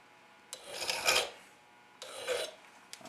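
A file rasps across the stamped hole of a metal pan to take off the burr, two close, scratchy strokes separated by a brief pause, with a faint tap at the end.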